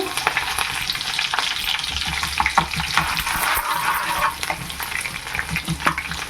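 Dried red chillies and crushed garlic cloves sizzle in hot oil for a tempering, a close, dense crackle with scattered pops and occasional stirring scrapes that runs steadily throughout.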